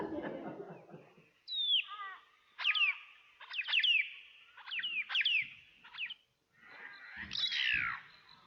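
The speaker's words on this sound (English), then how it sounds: "That sounds much more like the black-faced cuckoo shrike." A black-faced cuckoo shrike gives a series of short, rising-and-falling chirring calls in quick bursts with brief pauses, fairly close and clear in open bush country, with faint low background noise.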